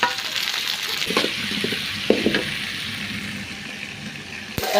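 Tomatoes go into a pan of sautéed shallots, garlic and curry leaves for a country chicken curry, giving a steady close sizzle with a few stirring knocks and scrapes against the pan.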